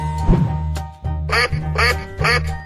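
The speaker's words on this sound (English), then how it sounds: "duck," A cartoon duck gives a series of nasal quacks, three or four clear bursts in a row, close and loud over a faint musical background.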